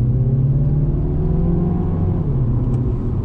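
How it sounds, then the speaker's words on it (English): A 2020 Mini Cooper S Clubman with a 7-speed dual-clutch gearbox pulls hard in first gear, its engine a loud, steady, rising drone that sounds close and continuous, with no talking over it. "another acceleration test. I'm gonna drop it down to first on throttle."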